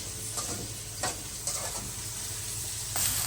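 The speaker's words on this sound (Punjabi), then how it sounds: "ਹੁਣ ਮੈਂ ਬਰਾਊਨ ਕਰ ਲੱਗੀਆਂ ਪਿਆਜ਼, ਘਿਓ ਪਾਣ ਲੱਗੀਆਂ ਵਿੱਚ 3 ਚਮਚ" Sliced onions browning in about three spoons of ghee in a pan for kaleji pota, giving a steady low sizzle with a few brief stirring scrapes. No one speaks.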